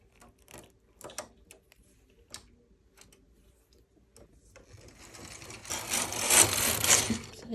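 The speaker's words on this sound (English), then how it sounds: "This is how we do decrease on knitting machine." Knitting machine carriage being worked while decreasing stitches, with a few sharp ticks and clicks early on, then a louder sustained rattling, whirring pass of the carriage near the end; no talk.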